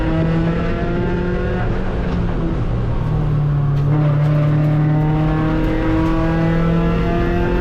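A race car accelerates hard on the Mid Ohio circuit, its engine climbing through loud rising revs in repeated sweeps, close and continuous with gear changes and track noise.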